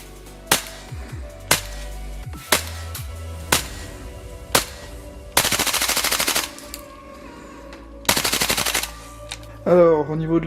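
A Double Eagle Noveske Ghetto Blaster 7-inch gas blowback airsoft rifle fires sharp, loud shots at close range, with single cracks and short spaced bursts and then longer full-auto strings, each ending in a brief clattering tail.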